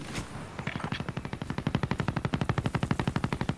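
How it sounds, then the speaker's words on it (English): Rapid automatic gunfire from Call of Duty: Modern Warfare Warzone, a steady burst of evenly spaced shots growing louder and continuing for several seconds. "I hear gunshots over here."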